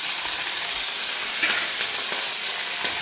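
Peanuts frying in hot oil until golden, with a steady, dense sizzle and faint stirring scrapes, close and continuous with no talking.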